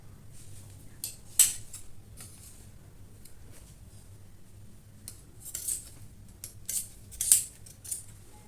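Scissors snip through blouse fabric in a quiet room, with a handful of short, crisp cuts spaced irregularly and a faint background hum between them.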